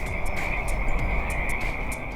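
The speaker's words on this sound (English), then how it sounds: "just listen to the frogs" A chorus of frogs croaks steadily across tulip fields at night, a continuous high trill with rhythmic pulses from many frogs at moderate distance.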